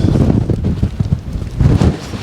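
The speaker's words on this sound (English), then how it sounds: "the bloody wind. It comes in big gusts." Strong gusty wind buffets a microphone outdoors at a camp on the Nullarbor, heavy low rumbling bursts that swell and ease in waves, loud and close, with no other sound.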